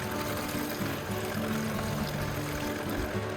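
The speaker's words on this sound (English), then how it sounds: "They get rinsed out, they get tipped out and rinsed off again." Tumbled melanite rocks tipped out and rinsed off with water after two days in a tumbler, giving a steady, dense wash of pouring and splashing water with rattling stones that runs loud and unbroken throughout.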